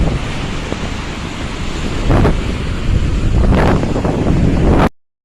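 Strong wind blows by a river clogged with water hyacinth, a loud, steady roaring rush buffeting the microphone with gusts swelling louder toward the end before cutting off.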